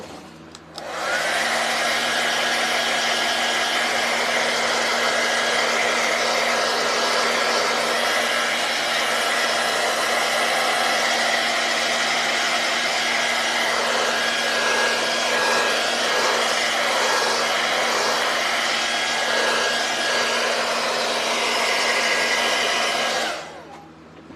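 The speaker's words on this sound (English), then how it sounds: "give this a quick blow dry" A hair dryer blows continuously for over twenty seconds, a loud steady whooshing hum that switches on and off cleanly.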